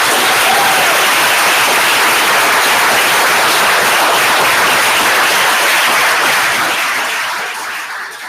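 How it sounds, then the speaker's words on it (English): A crowd gives a long round of applause for the judges at the final round of The Gauntlet 2024. The clapping is steady and full throughout, then fades slightly at the end, with no talk over it. "A big round of applause for"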